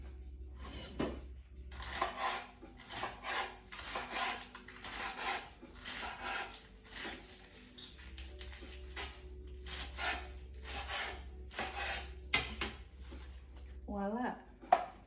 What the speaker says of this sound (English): first I'll like chop the lettuce